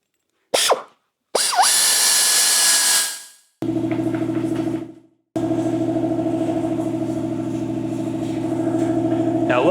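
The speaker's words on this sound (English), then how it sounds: "you want to make sure that the buffer is going off the panel as opposed to coming around and catching that edge" A car polishing buffer works over a painted panel on a 1968 Mustang, with short spin-up bursts followed by a steady whirring hum that runs close and fairly loud.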